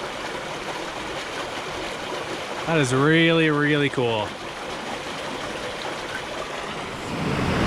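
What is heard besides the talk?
spring water gushing out of rock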